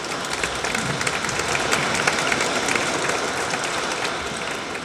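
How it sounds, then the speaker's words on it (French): A church congregation applauds the choir at a priest's installation service, producing steady, dense, crackling clapping that fills the whole stretch without any break. "on peut les applaudir"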